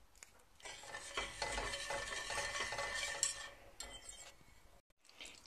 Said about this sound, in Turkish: Şekeri sütümün içerisinde önce karıştırarak eritiyorum.